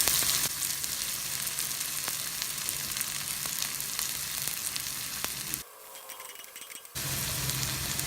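Chopped onion sautés in hot sesame oil, a close, continuous crackling sizzle with faint stirring ticks, broken once by a brief drop to near quiet before the frying noise returns.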